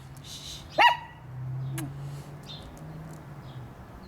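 A small dog gives one sharp, sudden bark at another dog, then a couple of fainter yips follow over a quiet background with soft murmuring.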